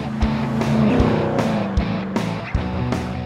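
A 2010-up fifth-generation Chevrolet Camaro fitted with a Hurst paddle shifter drives on the street, its engine revving up in several quick climbs, each cut by an abrupt gear change, close and loud.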